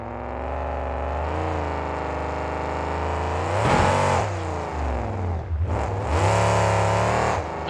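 Monster trucks racing at Stafford Speedway, a loud steady engine drone with rising revs and surges as a truck is driven hard up and over cars, heard alone without talk.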